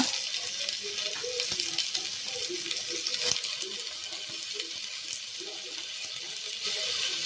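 Tomato frying in a pan of oil for a fish curry, a steady close sizzle with scraping stir strokes throughout, no voices.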